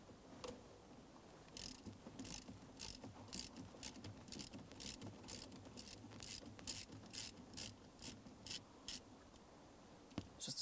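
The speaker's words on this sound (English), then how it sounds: "We'll be using a T15 Torx bit to remove this screw." A T15 Torx bit backs out a small grub screw on a 2002-2009 Chevrolet Trailblazer shift cable assembly, giving faint, close ratcheting clicks in an irregular rhythm over quiet background.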